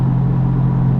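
A 2017 Audi A4 Quattro S Line engine cruising steadily at about 1300 RPM in a high gear, heard as a low, smooth, constant hum and rumble from inside the cabin with no voices.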